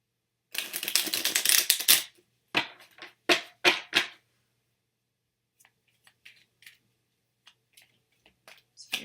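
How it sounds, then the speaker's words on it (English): Tarot cards shuffled with a fast riffling flutter, then a few crisp snaps as clarification cards are drawn and laid down, followed by faint scattered taps in near silence. "I'm going to get some clarification cards here."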